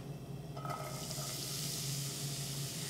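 Chopped onions go into hot olive oil in a large skillet over medium-high heat, and a steady, moderate sizzle of frying rises and holds with no talk.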